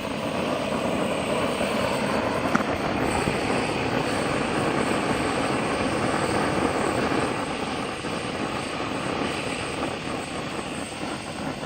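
A Harbor Freight propane torch burner throws a steady, loud, close roaring flame that holds a dense rushing hiss for the whole stretch with no voices.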